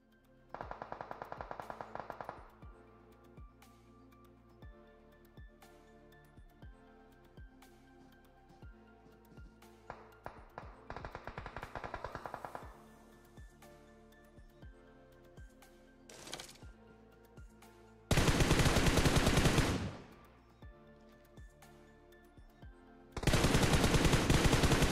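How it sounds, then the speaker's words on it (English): Bursts of SLR gunfire in PUBG Mobile during an esports match, loud clusters of rapid shots alternating with sparse single cracks and quieter game ambience, with no voices. "SLR sending big, big shots towards Dark Esports here."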